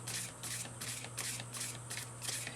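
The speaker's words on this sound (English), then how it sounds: "as I was shuffling" Tarot cards being shuffled by hand in a series of rhythmic riffling bursts, moderately close, with a steady low hum underneath and no speech.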